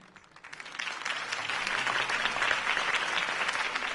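In the Telltale Batman video game, a crowd at Harvey Dent's campaign speech breaks into applause that builds from a thin start to dense, sustained clapping, moderately loud and fairly close.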